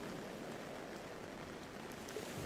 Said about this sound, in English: The rain is cleansing the air